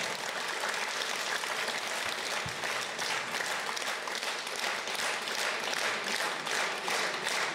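Sustained audience applause fills a hall at an anniversary concert for a singer, a dense, steady wash of many hands clapping at even loudness throughout, with no voices over it.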